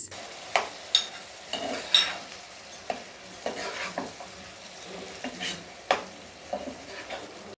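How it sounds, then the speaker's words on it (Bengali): Shrimp fry in a pan with spices, a soft steady sizzle broken by a dozen or so sharp, irregular scraping strokes of a spoon stirring against the pan, heard close up. "এখন দিয়ে দিলাম চিংড়ি মাছ"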